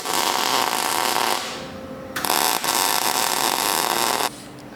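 Steel fabrication table being tack welded, with two sustained bursts of loud crackling, hissing arc noise close by, broken by a short pause and ending in quieter background.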